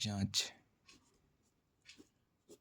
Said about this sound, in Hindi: थोड़ा सा लिखेंगे इधर